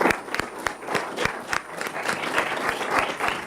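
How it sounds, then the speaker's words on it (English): An audience applauds steadily after a lecture on the Sarnath excavations, many hands clapping in a dense, continuous patter with a few sharper claps standing out, sustained throughout. "Let us have a big round of applause for Maniji."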